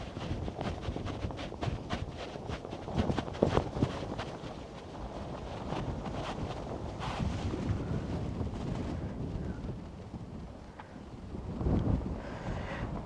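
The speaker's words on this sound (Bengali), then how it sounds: "এই যে দেখুন কি বাতাস," Strong wind blows across a desert farm in Saudi Arabia, a steady rough rush buffeting the microphone throughout with a few louder gusts, close and unbroken, with no voices.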